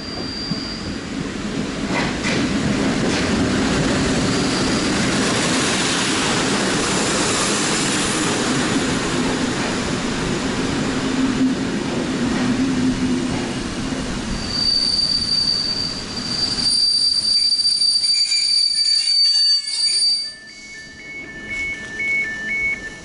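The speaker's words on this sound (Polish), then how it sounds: "Za chwilkę ma podjechać tutaj pociąg." A passenger train rolls into platform two of a Polish station, heard close and loud as a sustained rumble with long high wheel squeals, easing off near the end as brakes hiss and tones ring out.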